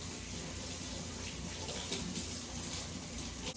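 Tap water runs in a steady, close gush while makeup brushes are rinsed beneath it, a constant splashing hiss with no talking.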